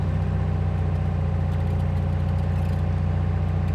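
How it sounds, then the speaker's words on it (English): A 1964 Volkswagen dune buggy idles in first gear on a beach with almost no throttle, giving a steady, close, low rumbling engine note that holds constant throughout with no talk. "We're in first gear, idling nice."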